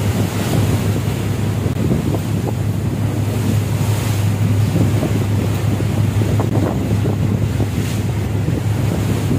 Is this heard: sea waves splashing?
yes